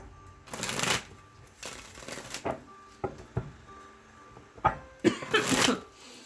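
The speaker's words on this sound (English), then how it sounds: "I'm seeing so much in this shuffling" A tarot deck is shuffled up close, several quick papery riffling bursts with short pauses between them and a final longer flurry, and no one speaks.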